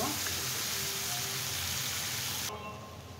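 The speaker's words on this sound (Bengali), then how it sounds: "আমি এখন আলুগুলা একটু ফ্রাই করে নেব।" Potatoes frying in a pan with turmeric, a steady dense sizzle that holds close and even, then drops abruptly quieter near the end.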